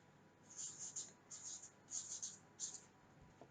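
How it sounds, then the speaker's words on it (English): Pen or pencil strokes writing the word "goal" by hand on paper, in four scratchy bursts of rapid strokes with short pauses between them, close and soft and heard alone. "So I'm going to write the word goal"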